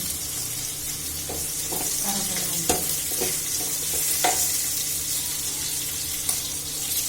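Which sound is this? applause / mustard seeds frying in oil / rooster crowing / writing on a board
mustard seeds frying in oil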